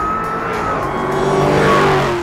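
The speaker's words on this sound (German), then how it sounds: "Jaulende Kompressoren," A supercharged Dodge V8 winds up loudly, its high supercharger whine rising over a dense engine roar, with tire squeal mixed into the sustained, building noise.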